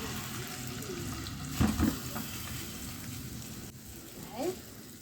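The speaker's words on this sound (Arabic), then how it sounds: "هننزل بقى بالصلصه" Tomato sauce poured into a cooking pot while making koshary, a wet sizzling splash with a couple of louder bursts, the pan hissing faintly throughout.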